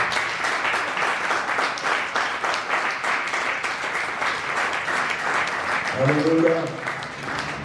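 A church congregation claps in a steady rhythmic applause throughout, with a voice speaking over it and a brief sung or called phrase near the end.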